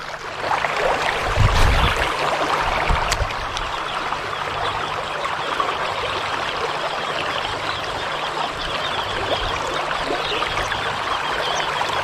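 Steady rush of the Ping River flowing over rocks, continuous and fairly loud, with a few brief knocks early on and no voices.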